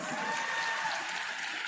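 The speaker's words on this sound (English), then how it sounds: "please can you give him another round of applause?" A large audience at a Nigerian Bar Association conference applauds in a steady, dense wash of clapping that holds at an even, moderate level throughout, with no voices rising above it.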